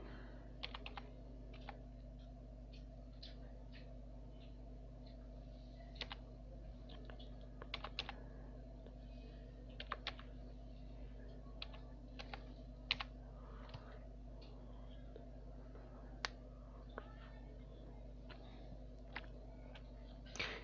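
An ID or passport number being typed on a computer keyboard, faint scattered key clicks in short bursts over a steady low hum.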